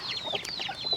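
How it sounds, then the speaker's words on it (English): Backyard chickens cluck and chatter continuously at close range in their coop, with several overlapping short calls and higher squawks during an evening check on fresh shavings bedding. "Chickens are weird."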